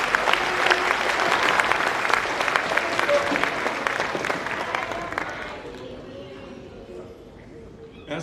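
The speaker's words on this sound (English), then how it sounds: "another round of applause for our students" Audience applause for students at a natural resources event, dense and steady clapping from a crowd that thins and fades over the last few seconds into room murmur.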